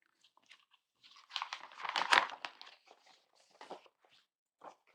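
Pieces of wallpaper crinkle and rustle as hands handle them, a soft papery burst peaking in the middle with a few lighter crackles after, close and quiet with no talking.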